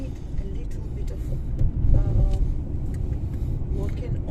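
A car drives the road from St George towards Peyia in Paphos, Cyprus, its engine and road noise a steady interior rumble that swells briefly partway through.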